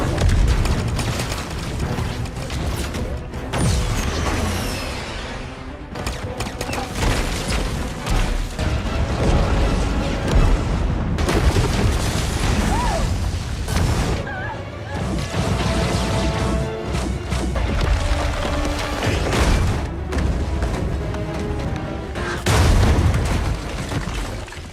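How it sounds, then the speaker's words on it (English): Heavy explosions and crashing impacts from an ion bomb in a battle against AI bots in the sci-fi film Atlas, a loud, dense barrage of booms and smashes layered with a score, continuous for the whole stretch. "she asks Smith to deploy an ion bomb, which obliterates the AI bots and gives her some respite"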